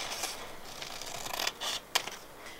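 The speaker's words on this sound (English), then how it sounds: "So we'll just get the scissors and then just cut it straight for now." Scissors snipping through a printed ribbon sash, a few quiet dry cuts and rustles, with a sharper snip near the end, close by and faint.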